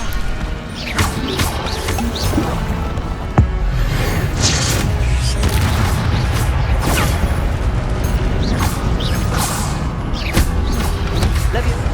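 Incendio fire spell cast in Hogwarts Legacy, loud whooshing bursts and crashing impacts over clanking game mechanisms, with a voice speaking over the busy action.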